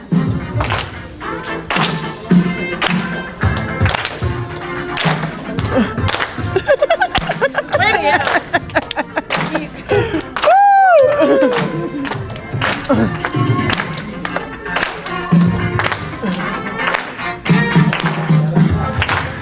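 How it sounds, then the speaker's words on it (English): An audience claps in sharp, rhythmic bursts at a Kangen presentation, steady hand claps running through much of the stretch amid crowd noise and a voice calling out. "Clap your hands."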